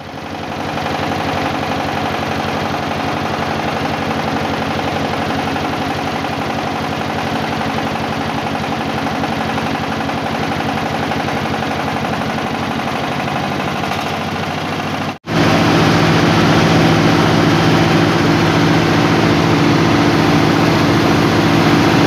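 A diesel engine drives a single-drive rice milling machine, running at a steady idle while it warms up. The close, continuous chugging drone dips briefly near the end, then returns louder and fuller.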